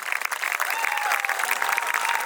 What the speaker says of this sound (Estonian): Endale üks suur aplaus.